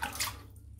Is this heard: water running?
yes